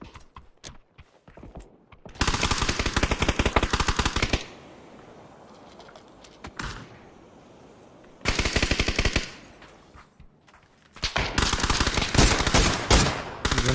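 Repeated bursts of rapid automatic gunfire in the battle royale game PUBG, loud and close, in three sustained volleys separated by quieter gaps with scattered single shots.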